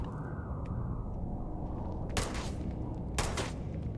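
Starfield combat gunfire, two sharp bursts of shots rising out of a steady low background rumble, the second a second after the first, close and fairly loud.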